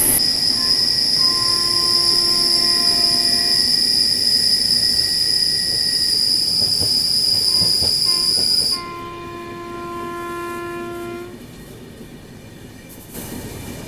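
An express train pulled by a push-pull locomotive brakes hard after someone pulls the emergency chain, wheels squealing in loud sustained tones, then the screech drops and the train grinds to a slower halt.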